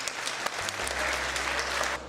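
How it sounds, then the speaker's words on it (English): A middle school audience claps steadily in sustained applause, dense and even throughout, fading slightly at the end. "Round of applause for kindness."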